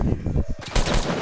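Video game gunfire in Fortnite, a short burst of rapid shots over about a second, loud and close.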